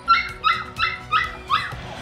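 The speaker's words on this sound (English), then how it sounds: "That's a big bark for a little dog" A small dog barks five times in quick, evenly spaced succession, sharp high-pitched yaps close to the listener.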